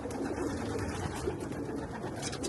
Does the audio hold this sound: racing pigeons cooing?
yes